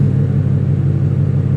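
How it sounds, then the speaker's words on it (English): A car engine runs with a steady, loud low rumble and a constant hum, holding at an even level without any clear rev peaks. "Fire the car up."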